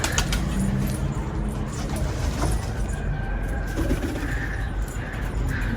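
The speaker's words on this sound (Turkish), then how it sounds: "Bu bizim yavrumuzu tutan adamın güvercini." A pigeon coos in a newly built rooftop loft among large show pigeons, the soft throaty calls repeating close by over a steady background hum with faint jingling.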